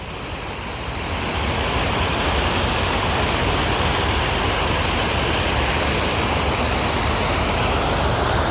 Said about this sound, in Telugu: ఇంత బాగా నీళ్ళు పారుతున్నాయి చూడండి.